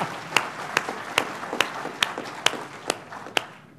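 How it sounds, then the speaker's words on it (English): An audience at an entrepreneurship panel session claps in a slow, steady rhythm of about eight sharp, evenly spaced claps that stand out clearly in a quiet room. "We can give them another clap."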